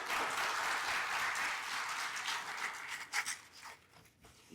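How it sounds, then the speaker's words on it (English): Warm applause fills the room at a speaking event, sustained at first, then thinning into scattered claps near the end. "Give them a round of applause, lovely"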